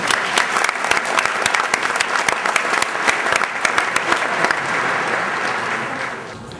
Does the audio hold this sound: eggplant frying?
no